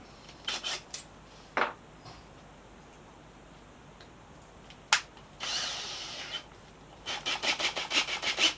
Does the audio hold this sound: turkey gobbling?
no